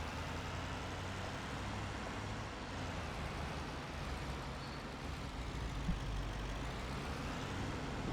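A Power Stroke pickup truck manoeuvres in Farming Simulator 25 with a constant, fairly quiet diesel rumble and no voices over it.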